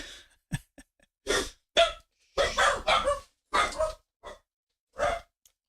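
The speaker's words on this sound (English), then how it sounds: "Sorry about the barking." A dog barks in short, sharp bursts, several separate barks spaced unevenly across a quiet room.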